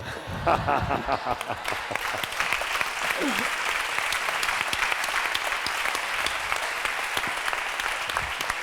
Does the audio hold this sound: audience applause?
yes